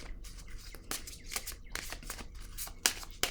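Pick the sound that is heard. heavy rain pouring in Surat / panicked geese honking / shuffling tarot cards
shuffling tarot cards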